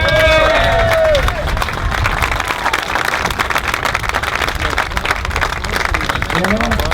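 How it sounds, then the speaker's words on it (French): A crowd gathered on a harbour pontoon for an ocean sailing race send-off claps and cheers loudly, with shouts and whistles rising above the dense applause and voices mixed into the noise. "Vous avez le droit d'applaudir."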